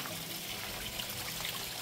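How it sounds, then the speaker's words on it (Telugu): Water trickles and dribbles inside Painshill Park's Crystal Cave, a soft, continuous flow heard faintly at a distance against a hushed, airy room tone. "వాటర్ సౌండ్ వస్తుంది"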